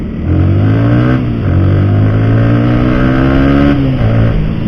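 Motorcycle accelerating hard in racing mapping mode, loud close engine climbing through gears with a rising note and brief dips at each shift, running continuously.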